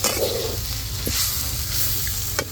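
Moth beans (matki) hit a hot frying pan and sizzle steadily, a close hiss of frying with a brief stirring clatter near the start and a sharp tap near the end.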